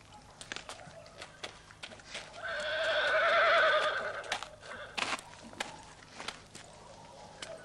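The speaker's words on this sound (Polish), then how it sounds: "Chodź, pokażę ci prawdziwego konia." A horse neighs loudly in a long whinny, with hoofbeats and scattered footsteps on a barn threshing floor before and after.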